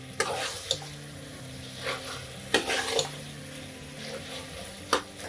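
Beef pasanday masala with green chilies and fresh coriander is stirred in a pan, giving sharp, intermittent scrapes and clatters of the spoon over a soft, steady sizzle, close and with no talk.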